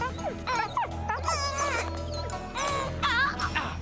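A cartoon dog in a French-dubbed Shezow episode barks, yips and whimpers in a quick, expressive run of high, wavering cries that fills the clip without pause.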